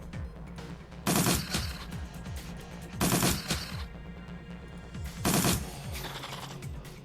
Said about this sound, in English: I'm just going to have everybody shoot at this thing.